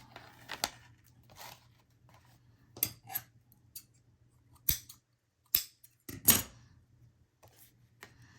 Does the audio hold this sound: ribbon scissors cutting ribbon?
yes